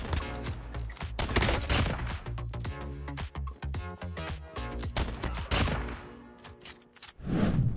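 Rapid bursts of gunfire in the mobile shooter COD Mobile, repeated volleys and heavy thumps firing loud and close in an almost continuous fusillade with no talk.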